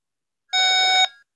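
A Radioshack 12-522 weather radio gives a single clear electronic beep of about half a second when its setup menu is opened, sharp and close, with silence before and after.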